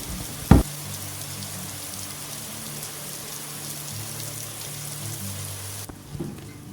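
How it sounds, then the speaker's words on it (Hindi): Steady rain falls outside a home near dinnertime, a continuous soft hiss with one sharp knock early on, dropping to quiet near the end. "बाहर अभी भी बारिश हो रही है"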